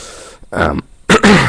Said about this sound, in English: sorry, still coughing